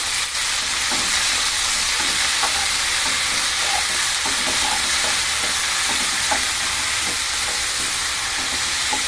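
Fenugreek leaves frying in a little oil in a pan, a dense, even hiss of sizzling throughout with faint crackles and stirring scrapes, close and continuous.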